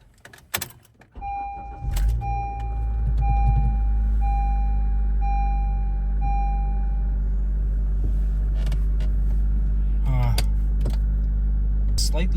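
A car with warning lights on, a 2012 model with a VSA control module fault, starts up: a short cranking burst near the start settles into a steady close idle hum, with chimes and faint clicks over it.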